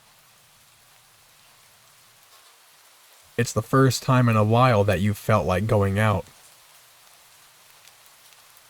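Steady rain falling in a video game, an even hiss that runs the whole way through, with a spoken line in the middle briefly riding over it.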